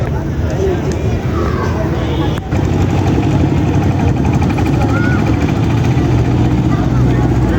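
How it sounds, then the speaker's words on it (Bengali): A boat engine runs steadily on a river near a bridge, its low continuous drone overlaid by a murmur of crowd babble and people talking, with a brief dip partway through. "দেখুন নৌকা নিয়ে ঘুরতে যাচ্ছে"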